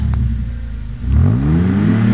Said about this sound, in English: Animals, start your engines.